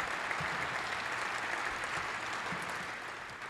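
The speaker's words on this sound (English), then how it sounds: "give these young people a round of applause," Audience applause for high school students at a political event, steady dense clapping from a crowd that holds for several seconds and tapers slightly at the end.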